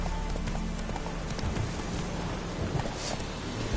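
Roach, a horse in The Witcher 3 video game, galloping with steady rhythmic hoofbeats under a dense, continuous wash of ambient noise, close and fairly loud throughout.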